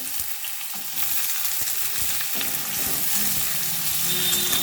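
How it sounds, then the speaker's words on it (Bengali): Chopped onion fries in oil with caramelised sugar in a pan for a Bengali rohu fish curry, a steady close hiss and sizzle with occasional stirring scrapes and clicks, no voices. "এবার ভালোভাবে আমি পেঁয়াজটা ভেজে নেব।"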